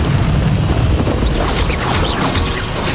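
A Confringo fire spell bursts in Hogwarts Legacy, a loud, sustained booming explosion with crackling debris over a rumbling low end, a faint voice briefly underneath.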